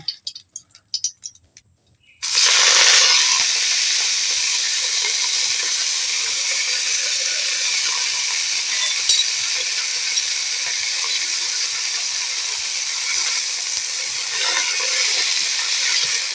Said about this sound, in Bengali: প্রথমে আমি শাকটা হালকা নেড়ে নেব